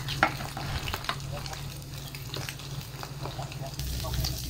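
Smoked fish (tinapa) frying in a pan at breakfast, a steady close sizzle with scraping stir strokes throughout, swelling louder near the end; no talk.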